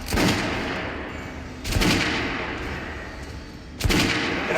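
Three heavy gunshots spaced about two seconds apart at a shooting range in the video game Metro Last Light Redux, each a loud close blast with a booming tail.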